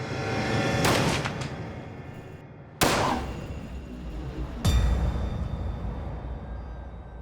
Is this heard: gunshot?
yes